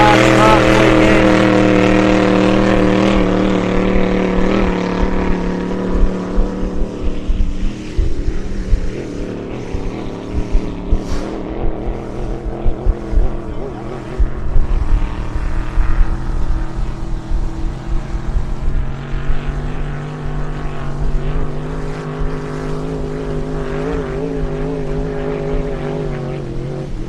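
A racing powerboat engine roars and drones across the course at the Glenmaggie District Powerboat Club meet, loud and sustained with shifting pitch, under a commentator's voice.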